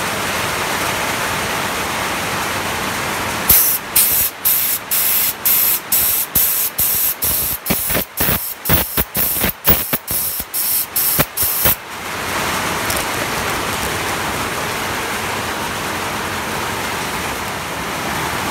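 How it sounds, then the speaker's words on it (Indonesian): An air sprayer blasts compressed air onto a Yamaha Jupiter Z motorcycle engine that runs rough and fails to get oil up to the cylinder head. A steady close hiss breaks into a rapid series of sputtering bursts, then returns to a continuous rush. "Di sini kita semprot pakai semprotan, itu malah angin nggak bisa keluar."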